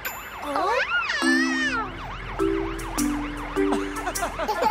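In a children's cartoon, a fire engine siren wails in rising and falling sweeps, loud and close, with a cartoon sound and a steady held tone that repeat.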